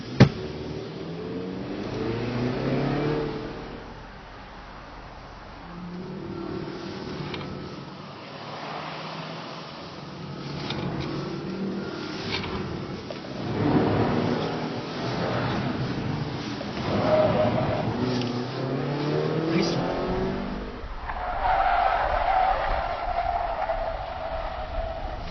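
A Volvo XC90 driving figure eights around cones in mud, its engine rising and falling as it accelerates and eases off, at moderate distance, with faint talk in places.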